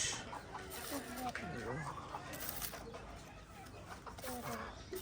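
Low, repeated clucking from a broody hen being set on eggs, under a steady background hiss, with soft murmuring and rustling nearby.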